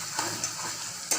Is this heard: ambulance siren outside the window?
no